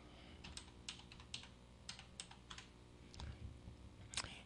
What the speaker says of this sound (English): And we type in our password.